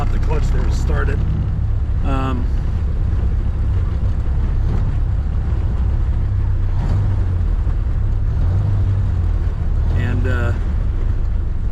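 A 1930 Ford Model A engine, just started by popping the clutch, idles with a low, steady rumble under heavy wind buffeting, while someone talks over it now and then.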